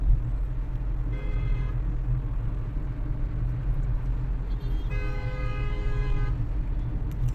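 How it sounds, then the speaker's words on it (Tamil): Two sustained car horn blasts sound on a main road over a steady low traffic rumble, the second one longer and slightly louder. "இப்போ ஒருத்தன் ஹார்ன் அடிக்கிறானா,"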